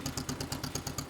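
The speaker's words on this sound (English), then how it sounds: "It's a real quiet little tractor" A John Deere M tractor engine idles at low RPM while running a Split Fire 3403 log splitter, a steady rhythmic chug of evenly spaced firing pulses, close and moderately loud.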